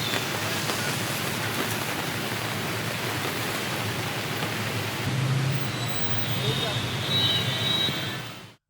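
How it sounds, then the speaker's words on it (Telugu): Heavy rain pours onto the streets of Hyderabad, a dense, even hiss of falling water held at a steady level for several seconds, swelling slightly near the end before cutting off, with faint passing traffic sounds mixed in. "యూసఫ్గూడ, బోరబండ, జూబ్లీహిల్స్, బంజారాహిల్స్, హైదర్గూడ, లక్డీకపుల్, ట్యాంక్ బండ్ ప్రాంతాల్లో భారీ వాన కురిసింది"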